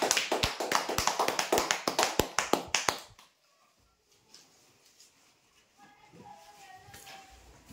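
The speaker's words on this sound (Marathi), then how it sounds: "जोरदार टाळ्या द्यायसाठी" Audience clapping at a lucky draw prize announcement, a dense burst of hand claps lasting about three seconds before falling to quiet room ambience with faint distant noise.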